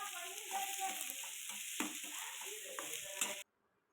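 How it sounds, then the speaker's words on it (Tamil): Sliced onions and curry leaves sauté in a pan with a steady close sizzle, broken by scraping stirs and a few clinks of the spatula, before the sound cuts off abruptly. "வெங்காயம் நல்லா வதக்கி விடலாம்"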